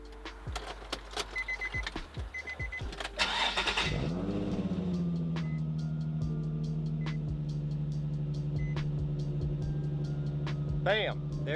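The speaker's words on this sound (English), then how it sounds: "I'm gonna go ahead and turn the car on and show you guys." A Nissan 350Z engine cranks and catches at close range, then settles into a steady idle, with brief clicks and key sounds at the start and a faint chime near the end.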